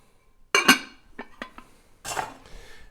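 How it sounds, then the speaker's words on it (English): A Corningware casserole dish, heavily carbonized from frequent use, is handled in a kitchen: a sharp clatter, a few light clinks, then a scraping rattle, close by and without talk. "Classic Corningware dish. Do a lot of casseroles in here."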